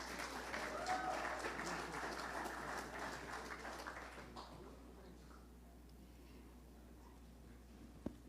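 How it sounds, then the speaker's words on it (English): Audience applause at the Caribbean Broadcasting Union's 35th Caribbean Media Awards ceremony, a dense steady clapping that fades out after about four seconds into quiet room tone, ending with a single sharp knock. "Can we please have a round of applause?"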